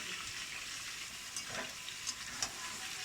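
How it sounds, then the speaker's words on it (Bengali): Chicken frying with onions in a pan makes a faint, even sizzle throughout, with a few soft clicks of stirring. "চিকেনটাও ওর সঙ্গে যখন ভাজা হয়ে যাবে পেঁয়াজটাও পুরো ভাজা হয়ে যাবে"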